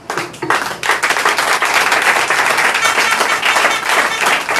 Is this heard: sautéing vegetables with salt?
no